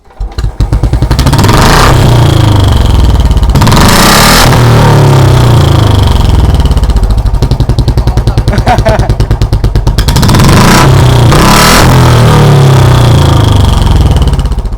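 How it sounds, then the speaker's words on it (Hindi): Royal Enfield Bullet motorcycle fitted with a turbo whistle exhaust, loud and close, its thumping idle broken by repeated throttle blips that rise into revving bursts with a whistling tone, while people talk over it. "बस कसने की बारी है, तू बाइक स्टार्ट कर,"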